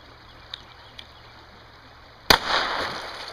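A single sharp gunshot fired at a beaver near a foothold trap by water, loud and close, cracking suddenly after two faint clicks and trailing off into a short outdoor echo.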